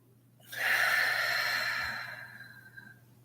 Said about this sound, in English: Let's take some deep breaths in.